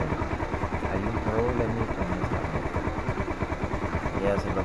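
A motorcycle with a suspected battery or relay fault idling at low revs, a close, steady putter with regular firing pulses under someone talking.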